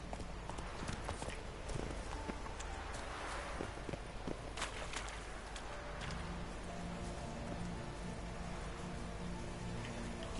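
The horse Roach's hooves clip-clop at a quickening pace in a video game, a steady rhythmic beat under ambient background, moderately close with no talk.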